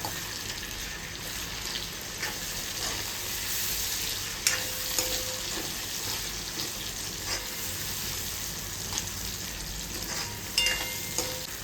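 Finely chopped tomato fries in a pan with fried cashews for a turmeric vegetable dish, with a soft steady sizzle, occasional clinks and stirring scrapes, fairly quiet and without talk.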